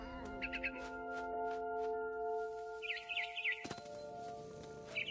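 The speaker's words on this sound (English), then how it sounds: "It was a barn swallow going back to her nest." Barn swallow chirps from What Remains of Edith Finch come in short twittering clusters, first faint and then brighter, set against a soft sustained musical drone with a sharp knock partway through.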